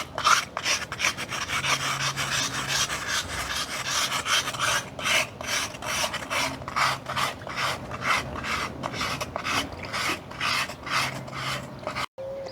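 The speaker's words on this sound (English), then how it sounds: "one last example I wanted to show is using this stone on this pool tile" Pumice stone scouring pad scrubbing pool tile, brisk repeated back-and-forth rasping strokes, close and fairly loud, continuing steadily for over ten seconds.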